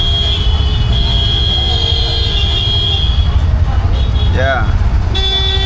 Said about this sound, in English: You always hear the beeping sound everywhere